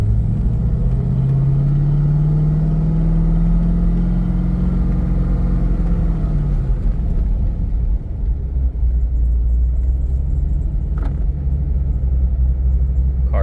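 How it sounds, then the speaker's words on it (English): A modded 2004 Chevrolet Corvette Z06 hardtop with a roll cage rumbles loudly during a test drive, its engine note rising and then settling into a deep steady drone heard from inside the cabin. "Car sounds really good."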